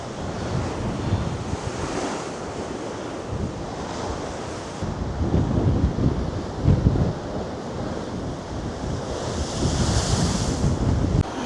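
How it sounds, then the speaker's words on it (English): Stormy sea waves crash and surge against the lower Blackpool promenade, a loud, continuous roar of surf with heavier breaking swells and gusty wind buffeting the microphone, no voices. "So you just feel the vibrations as you walk along the lower part of the promenade with the waves."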